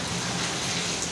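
Steady rain patters densely on surfaces, a constant hiss at moderate volume.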